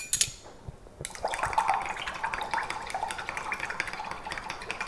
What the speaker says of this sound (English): So this is about 1 teaspoon of wine yeast. I'm just going to mix it with this water.